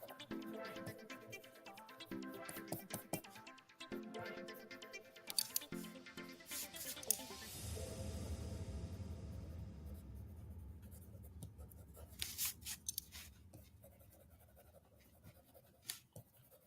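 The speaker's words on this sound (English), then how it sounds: "Now, all you hear in the mic is just my pencil." A pencil scratches and taps across paper close to the mic, with quick strokes, a long steady shading stretch in the middle, then more brisk scribbling, alone without talking.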